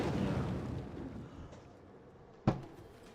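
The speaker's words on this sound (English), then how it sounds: "Somebody just nuked Plymouth" A nuclear bomb detonates in the strategy video game Civilization 6: a broad, sustained rumble fades gradually, then a sharp, sudden boom hits near the end.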